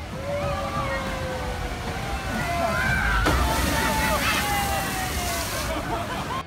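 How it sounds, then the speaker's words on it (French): Water splashes and sloshes continuously on a wild river amusement ride, with a steady wash of churning water throughout and a brief louder surge midway. "la rivière sauvage."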